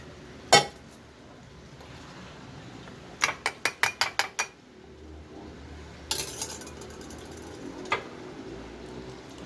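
Green tea with clove and cinnamon being strained, giving sharp metallic clinks and taps: a single click, then a quick run of about six taps, followed by scattered lighter clinks over a quiet room background.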